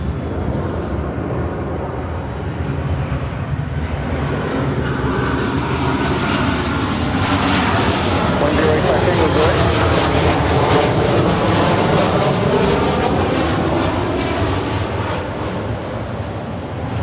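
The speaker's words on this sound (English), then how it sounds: "And that is Delta Airlines 1008, 737-900ER from Salt Lake City." A Delta Airlines Boeing 737-900ER jet at LAX, a loud, sustained engine roar that builds and sweeps with shifting tones as the aircraft passes close by, without talking.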